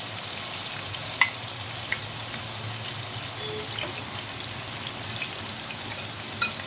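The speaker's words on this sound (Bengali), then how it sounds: "চিকেন जो मैरिनेट करके रखे थे वो अभी फ्राई कर लेंगे।" Marinated chicken pieces sizzle steadily in a hot pan, a dense, even crackle with a few sharper pops, close and alone without any talk.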